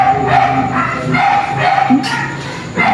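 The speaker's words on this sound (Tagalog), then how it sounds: "Kaya may naririnig yung mga taol ng aso." Dogs bark repeatedly from neighboring houses in the dark, a string of yips and barks at moderate distance.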